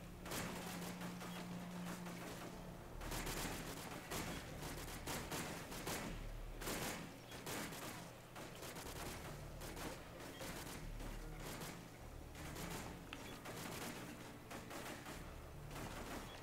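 Dense, continuous gunfire in Modern Warfare 2, with overlapping rapid machine-gun bursts and heavier booms forming a steady, chaotic battle din that never lets up.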